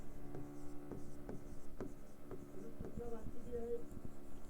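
Chalk or marker scratches across a classroom board in short, rhythmic strokes, faint and steady beneath a low hum.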